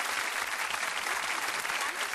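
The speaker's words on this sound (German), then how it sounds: "Ein riesenhafter Applaus für diese Frau." Dense, even studio audience applause rolls on for the winner of a German television game show, a brief steady wash of clapping with no voices on top.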